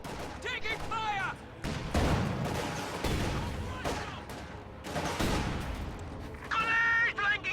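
Rapid volleys of gunfire and crashing blasts from a World War II style video game battle with MG-34 machine gun crews, loud and continuous, with brief shouted voices breaking through.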